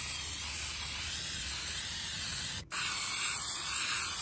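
A spray can of Plasti Dip rubber coating hisses steadily up close, cutting out for a split second before the spray resumes just as loud.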